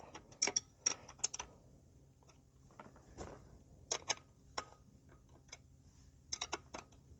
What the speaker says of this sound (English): Wrench tool to tighten this up.